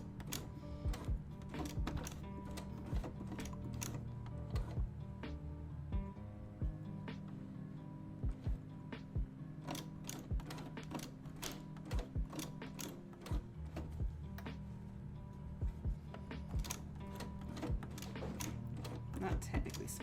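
A sewing machine turned by hand while stitching a face mask: steady mechanical clicking and ratcheting in an uneven rhythm, close and moderately loud, running throughout.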